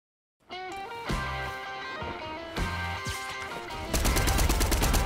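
Video game gunfire bursts after a brief silence, with rhythmic, tonal, music-like shots and heavy low thumps, ending in a faster, denser rattling volley.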